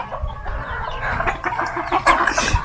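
Chickens cluck steadily at a Filipino home, a rooster and several hens voicing overlapping calls close by with no talk, over a low background rumble.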